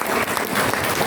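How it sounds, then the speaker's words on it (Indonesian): A church congregation at a worship service claps for the worship team, a dense burst of close, loud applause filling the room. "Tepuk tangan lagi sekali lagi buat tim pemuji."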